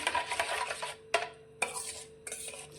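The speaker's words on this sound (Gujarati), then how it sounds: "બધી જ વસ્તુને આપણે મિક્સ કરી લઈશું" A spoon scrapes and stirs through a wheat flour snack mixture with turmeric, a few quick rasping strokes separated by short pauses, close up.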